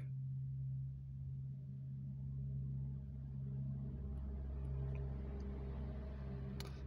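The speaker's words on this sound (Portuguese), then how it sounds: "Desculpe o barulho do carro, gente" Low, steady rumble of a car outside, droning continuously at moderate level with a slight swell midway and no talking.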